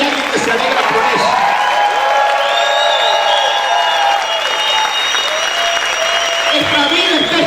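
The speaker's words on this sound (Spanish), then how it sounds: "vamos a celebrar con un fuerte aplauso, con gritos de alabanza" A church congregation applauding and cheering, loud sustained clapping mixed with shouts, whoops and voices throughout, crowded and close.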